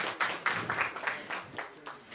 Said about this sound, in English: Can we have a round of applause, please, ladies and gentlemen?